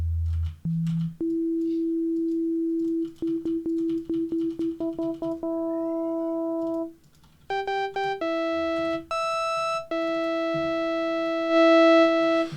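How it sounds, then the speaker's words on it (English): Generated electronic test tones, pure sine-like pitches that step up and down in short bursts and held notes, with some harmonically richer chirping tones toward the end, loud and clean with no talking. "So there I have a tone."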